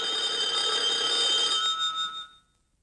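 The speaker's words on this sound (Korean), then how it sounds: "여자가 다이얼을 돌려 전화를 건다." A bright, steady electronic ringing tone holds for about two seconds as a rotary telephone is dialed, then cuts off and fades into silence.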